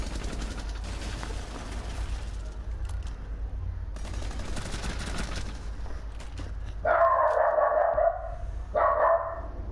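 A dog barks in a room during a Rainbow Six Siege gaming session, with several loud, sharp barks in two bursts near the end over game sounds and background noise.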